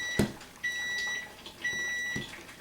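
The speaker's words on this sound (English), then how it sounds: "Gotta turn my timer off." A kitchen timer sounds a few high electronic beeps in short bursts while making pie crust, fairly faint with soft handling knocks around them.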